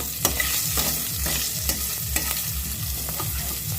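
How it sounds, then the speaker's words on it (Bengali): Green chillies fry in hot oil with asafoetida for a singara filling, a constant sizzle broken by regular scraping strokes of a spatula stirring in the pan, close and with no voices. "এটাকে ভালো করে তেলের সঙ্গে ভেজে নেব"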